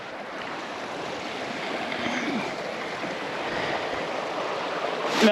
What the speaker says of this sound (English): Now we get to go up this waterfall.